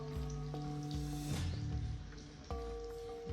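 Homemade jamun wine fermenting in a container gives off a faint, steady fizz of gas bubbles, quiet and close, with a low tonal hum running underneath.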